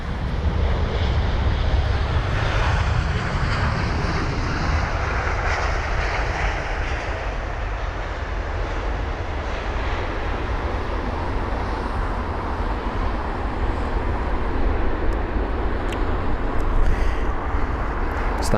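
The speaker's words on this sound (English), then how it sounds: "That was the 3-year-old A350 aircraft with a very nice touchdown." Airbus A350 landing at London Heathrow, a loud, continuous broadband engine roar and rumble lasting throughout, fairly close with slight swelling near the end.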